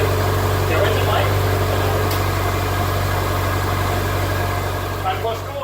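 A rusty Subaru Impreza runs just after starting on a fresh battery, a steady, close idle hum with slight rattling vibration, while someone speaks over the engine.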